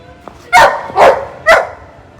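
An injured dog cries loudly in three sharp, strained yelps spaced about half a second apart, close and prominent over a quiet background.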